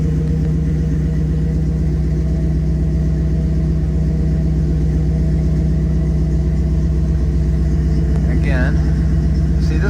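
A 1953 Chevrolet 3100 pickup engine idles steadily just after a cold start, a loud, even, close rumble that holds without revving.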